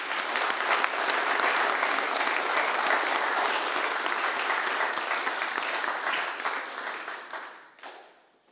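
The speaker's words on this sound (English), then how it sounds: "I think that's worthy of applause as well." Sustained audience applause fills a room at an Eagle Scout ceremony, a dense steady patter of many hands that tapers off over the last seconds.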